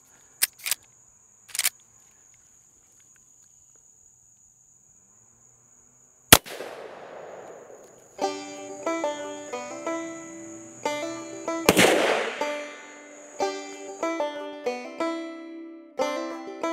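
A Henry Axe .410 shotgun firing triple-aught buckshot into ballistic gel gives a sharp, loud single report; a second heavy blast follows later over tonal background music.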